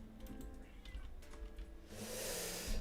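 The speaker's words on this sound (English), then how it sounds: "the fucking cat is yowling again" A cat yowls indoors, a faint drawn-out cry heard beneath a broad rush of noise and some clicking, fairly distant rather than close.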